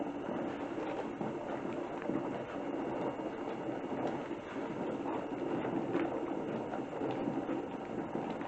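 A pressure canner full of turkey jars vents steam on the stove with a steady, loud hiss and rhythmic chugging, like a small train, running unbroken for several seconds with no voices.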